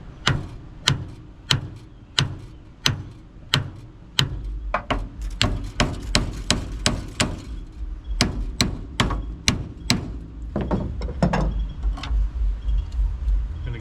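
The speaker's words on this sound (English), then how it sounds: "I'm going to get a hammer and I'm going to give it some taps" Sharp metallic hammer taps on the front clip of a 1957 Chevy, struck in a steady series of close, loud blows that speed into quicker clusters midway before slowing again.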